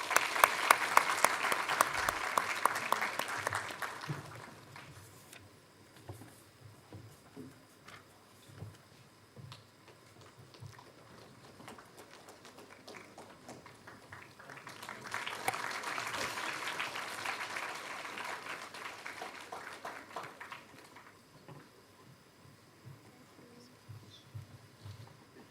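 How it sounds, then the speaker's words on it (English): Audience applause fills a G20 conference session at Shaheed Bhagat Singh College, University of Delhi, with loud bursts of clapping at the start and again midway and scattered lighter claps between. "May we have a big round of applause"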